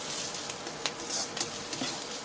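A pounded paste of garlic, peppercorns and coriander root stir-fries in a hot pan for braised pork belly, a dense, close hiss of sizzling with a few soft stirring scrapes.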